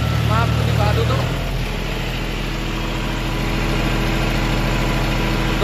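A John Deere 5105 tractor with a 7-foot rotavator, its engine running steadily around 1500 RPM with a low, even rumble. Someone talks over the engine noise.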